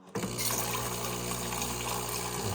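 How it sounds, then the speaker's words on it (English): Water rushes steadily from the valve of a De'Longhi Dinamica espresso machine during descaling, a loud continuous hiss and splash that begins abruptly and keeps going without pause. "the water's probably gonna start coming from here"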